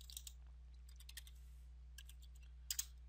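Light keystrokes on a computer keyboard while code is entered, a few soft scattered taps with a brief quick burst near the end, faint over a steady low hum.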